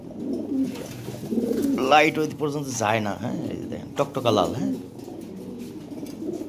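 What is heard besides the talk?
European Lahori pigeon cooing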